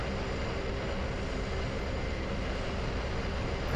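A passenger airliner in a flight simulator takes off, its engines holding a steady, loud, broadband roar with no breaks throughout.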